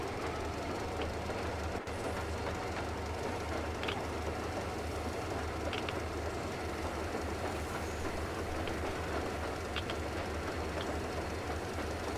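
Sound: train riding on rails in video game Metro Exodus

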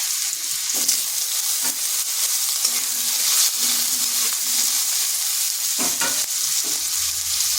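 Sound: potato pieces frying in oil

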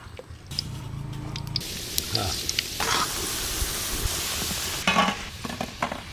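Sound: kalo jam sweets frying in hot oil

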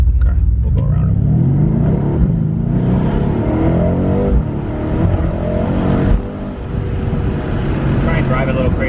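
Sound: Mercedes AMG car accelerating to overtake

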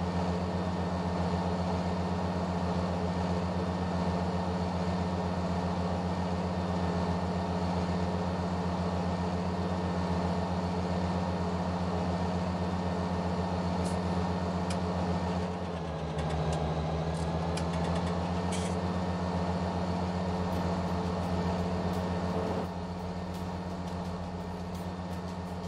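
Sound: tractor engine running at 1800 rpm in Farming Simulator 19 video game

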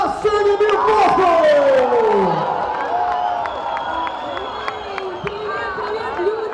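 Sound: audience applause and cheering for a performer

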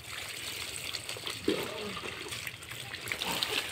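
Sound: water being poured while bathing a child

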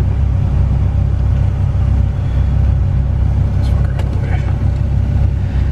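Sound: turbo Honda D-series car running on a dyno

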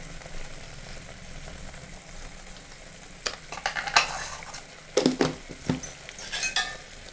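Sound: mixing green peas curry masala in a pan

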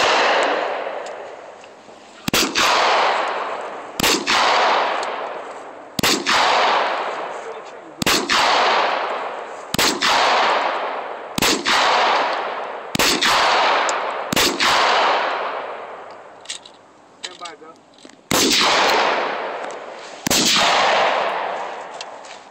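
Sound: gunshots from a handgun with laser sight at a shooting range

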